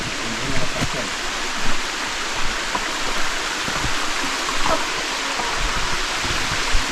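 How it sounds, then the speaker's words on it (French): A waterfall pours in a steady, broad hiss of rushing water, close and continuous, with a few soft knocks and faint voices underneath. "Je crois qu'on arrive à la cascade hein."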